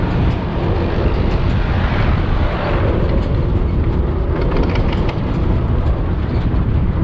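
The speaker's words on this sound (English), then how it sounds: "We are going pretty fast for a tractor." A tractor driving fast along a road in Pakistan, a loud, continuous rumble of engine and road noise with rattling and wind that stays constant throughout, with no talking.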